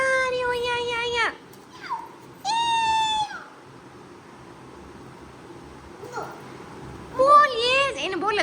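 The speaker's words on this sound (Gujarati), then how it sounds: "મીનો મીનો ક્યાં મીનો મ્યાઉ" A cat gives several drawn-out, falling meows close by, with quieter stretches between calls and a voice mixed in.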